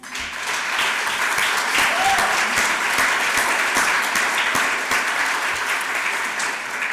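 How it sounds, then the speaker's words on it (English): Sustained audience applause fills a hall at a 15th anniversary gala, a broad, even wash of many hands clapping close and loud throughout. "I think is worth another applause"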